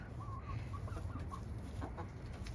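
Hens clucking in a flock: a few soft, short, irregular clucks close by over a low steady background hum, fairly quiet.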